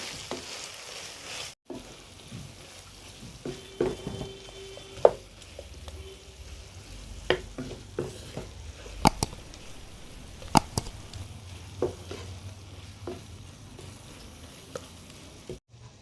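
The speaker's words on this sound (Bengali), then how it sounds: "আবারও সব কিছু ভালো করে মিশিয়ে নেব।" Tawa chicken fry is stirred in a pan, with a soft, low sizzle beneath a series of scattered scraping and clinking strokes of the spatula against the metal, close and intermittent.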